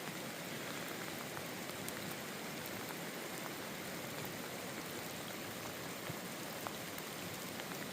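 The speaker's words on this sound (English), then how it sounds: "Yeah, the water's coming down now." Rain falls steadily during a scenic drive, a faint, even wash of hiss and patter with scattered drops and no break.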